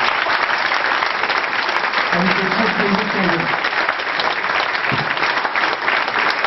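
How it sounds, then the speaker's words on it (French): Spectators at a judo club demonstration applaud a junior champion with steady, continuous clapping filling the room as someone speaks briefly over it. "Et vous pouvez l'applaudir"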